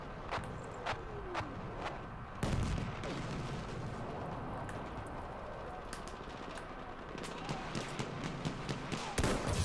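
Artillery strike in the World War I shooter Battlefield 1: a heavy blast lands around 2.4 seconds and another near the end, set among scattered sharp gunshots and a steady battlefield rumble.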